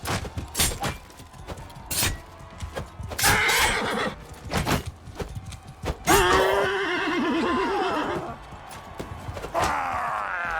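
A horse neighs loudly with a long, quavering whinny amid battle in Mount & Blade II Bannerlord, set among clattering hoofbeats, sharp impacts and clashes; a second fainter whinny follows.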